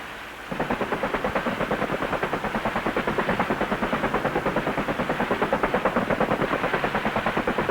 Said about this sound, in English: The Cobras return any fire which could be a danger to the flight